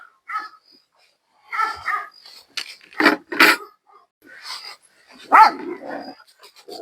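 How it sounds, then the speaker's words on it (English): A dog barks and whimpers in a series of short, separate yips and barks, fairly close, with brief pauses between them. "And there's our lovely dog buddy."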